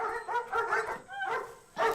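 Hungry dogs bark and yip excitedly in rapid, overlapping bursts, close and fairly loud, with whining between the barks.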